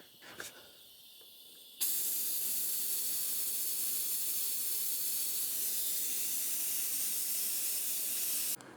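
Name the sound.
opening the bleeder on a motorcycle brake master cylinder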